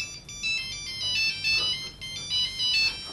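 An Egyptian home telephone rings in a repeating electronic trill, bright tones coming in short regular bursts with small gaps, close and clear, with no talking over it.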